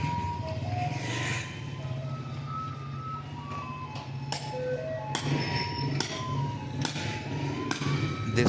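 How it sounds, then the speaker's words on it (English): A chisel is hammered against a rust-stuck manhole cover in a park, giving sharp metallic clanks in irregular bursts under a steady reversing-truck beep and outdoor background hum. "Staff is trying to remove that with the help of chisel"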